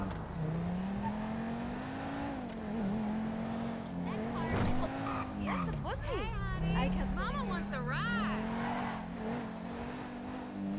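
A fast car in GTA 5 roars and revs continuously with rising and falling engine pitch, while tires squeal in wavering bursts midway. A voice talks over it.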